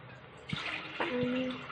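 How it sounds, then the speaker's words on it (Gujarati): About half a glass of water poured into a second cooking pot in a home kitchen, a short splashing gush that settles into a steady, rising trickle, close and moderately quiet. "થોડું પાણી નાખીશું, અડધો ગ્લાસ જેવું."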